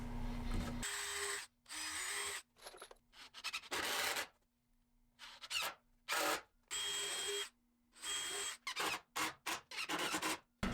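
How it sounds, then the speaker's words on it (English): Power drill driving a couple of screws into a small wooden block while framing a stair half wall, in repeated short whirring bursts with pauses between, close and fairly loud. "I'm going to drive a couple screws down there"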